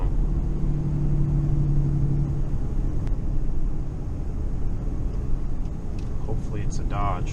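A Mercedes Sprinter 25-foot rear-wheel-drive motorhome drives up, its engine making a steady low rumble that dominates throughout, with a faint tonal whine early on. Voices can be heard alongside it.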